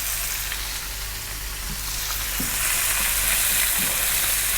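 Onion and ginger garlic paste fry in a pan with a steady, loud, close sizzle, with faint stirring scrapes underneath.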